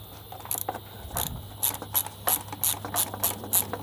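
Quick rhythmic ratchet clicks from a wrench with a 3/4 socket loosening a part on a Toro commercial walk-behind mower, bursts of close metallic pawl clicking over a low steady hum, with no speech.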